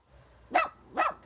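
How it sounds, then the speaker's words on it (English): A dog barks twice near dumped rubbish on the Gwent Levels, two clear, evenly spaced barks at moderate distance with faint outdoor background. "the rubbish attracted this dog, which then started eating the waste"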